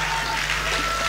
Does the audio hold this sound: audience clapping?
yes